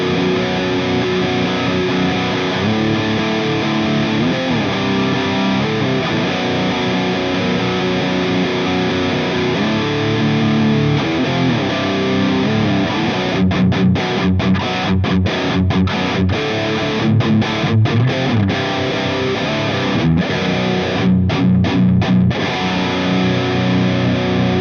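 Heavily distorted electric guitar through the high-gain channel of an Orange amp, playing dense, sustained riffs with choppy palm-muted bursts toward the end, loud and continuous throughout.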